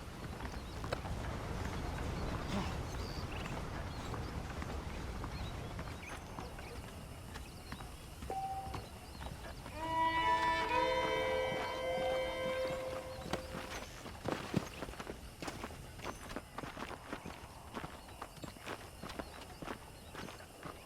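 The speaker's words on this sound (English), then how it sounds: "The horses are saddled up over here." Hooves clip-clop at a steady walking pace in the video game Red Dead Redemption, against a constant background hum, with a brief melodic chime partway through.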